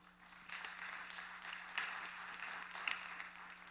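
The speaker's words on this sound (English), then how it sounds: "please, round of applause" Applause from a summit audience in Miami, fairly soft and distant, with steady clapping under a low electrical hum and a couple of sharper claps standing out.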